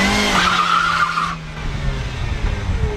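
A car's tyres skid and squeal as the car swings sharply around during evasive driving training for federal judges. A high screech lasts about a second over the engine, then fades into rolling tyre and motor noise.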